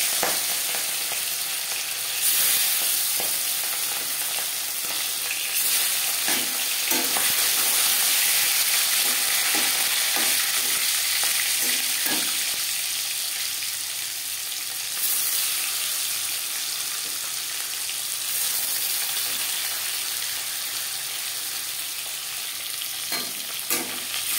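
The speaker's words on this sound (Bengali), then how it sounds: "4 চামচ রিফাইন্ড অয়েল গরম করে নিয়েছি। দিয়ে দেব ম্যারিনেট করে রাখা মাছ।" Marinated fish frying in hot refined oil for a Bengali fish curry, a loud continuous sizzle and crackle lasting throughout with occasional stirring clicks, no talking.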